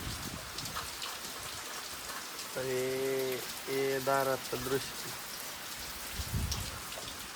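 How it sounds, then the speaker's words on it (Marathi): Heavy morning rain pours steadily over a farm, a constant close hiss of falling drops, with a voice talking over it partway through. "चौका असा पाऊस पडतोय"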